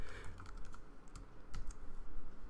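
Quiet, close typing on a computer keyboard while entering code, a quick irregular patter of key clicks with a few sharper taps and brief pauses, without any talking.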